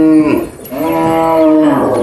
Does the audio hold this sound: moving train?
no